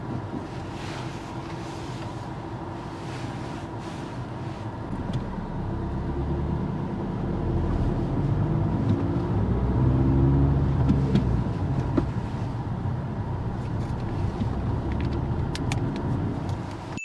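A car pulling away from a stop during a driving test, its engine hum rising as it moves off, a steady low drone heard from inside the cabin that swells midway and then settles.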